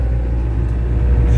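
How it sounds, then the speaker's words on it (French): A car arriving on a small country road, a low steady engine rumble that builds slightly toward the end, fairly close with no talk. "regardez, encore une voiture qui arrive"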